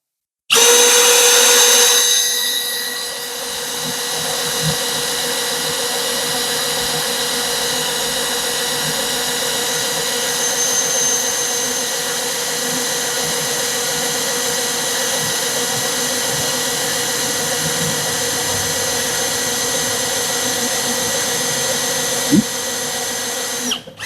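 A Milwaukee M12 FPD2 cordless drill fitted with a 5 mm bit runs at its lowest speed setting in drilling mode, giving a loud, steady whine that holds for about twenty seconds before cutting off, with no talking.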